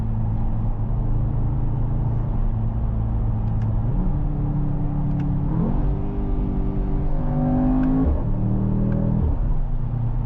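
Mercedes AMG GT 63 S E Performance hybrid accelerating out of a corner, a loud continuous engine drone with rising pitch sweeps as it climbs through the revs and shifts, heard from inside the car without talk.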